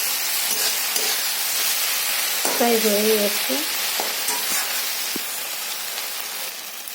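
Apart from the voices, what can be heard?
masala frying and sizzling in oil in a pan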